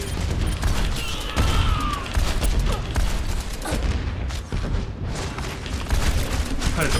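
An Overwatch turret fires in a chaotic match, with rapid gunfire bursts mixed with booming impacts and explosions, loud and continuous, and a voice occasionally under the din.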